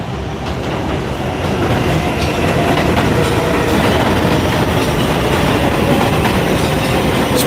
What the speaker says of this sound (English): There is a local 7 train to Flushing Main Street.